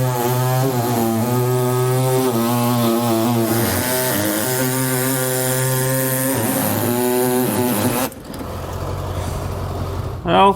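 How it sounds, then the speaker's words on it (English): Air saw cutting an opening in a pickup truck bed, a loud, steady buzzing drone with wavering pitch that runs for about eight seconds and then stops, leaving quieter handling noise. "So I'm just going to use an air saw to do this."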